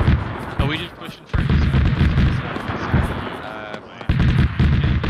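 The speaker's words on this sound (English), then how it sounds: "I think mortars are on the hedge" Mortar fire in a military shooter game set in Grenada, with dense, loud rumbling blasts and gunfire running throughout and voices talking over the battle.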